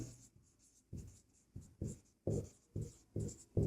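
Pen or pencil writing by hand on paper while working a Class 10 math problem on circle areas: close, quiet bursts of scratchy strokes in an uneven rhythm, roughly eight short strokes with brief pauses, no talking.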